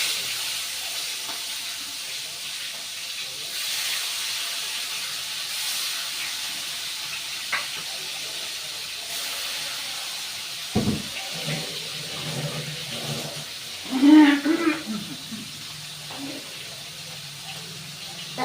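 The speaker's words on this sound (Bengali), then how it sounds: "তেলটা আমার গরম হয়ে গেছে, মাছগুলো দিয়ে" Fish pieces slide into hot oil in a pan, with a steady hiss of frying, a sharp thump and a louder burst of sizzle, then a soft bubbling crackle, close and moderately loud.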